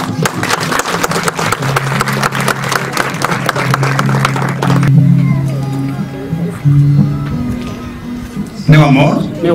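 Applause from guests at a wedding ceremony, a dense burst of clapping for several seconds under a person speaking, then fading out as the talk continues alone.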